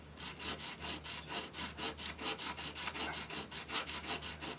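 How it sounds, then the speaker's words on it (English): Sandpaper roughs up the contacts of a fuse block being prepared for soldering, a close, steady run of about a dozen quick back-and-forth rasping strokes with no talk. "I'll take the fuse block here and I'll sand this here"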